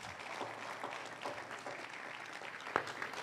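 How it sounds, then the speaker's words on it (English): An audience at a School of Ministry graduation gives the principal a steady round of clapping, a dense, even patter heard from a slight distance at modest volume. "Let's give a better clap for our principal."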